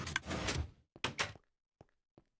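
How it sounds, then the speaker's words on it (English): A wooden door in the Minecraft video game opens with a dull thunk after a burst of game noise, followed by a few short, sharp clicks against near silence. "And you just heard a door open."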